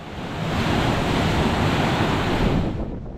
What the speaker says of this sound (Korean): 막힌 속이 뻥 뚫린 듯한 거센 파도의 모습이 정말 장관이네요.